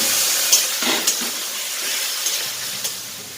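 Chicken frying in a pan with ginger and chilli paste, giving a steady close sizzling hiss that stays even throughout, broken by a few faint stirring clicks, with no talking.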